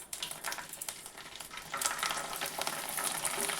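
Rice papad fries in hot oil with a crackling sizzle close by, starting in scattered pops and swelling into a louder, denser fizz after a couple of seconds, with no voices.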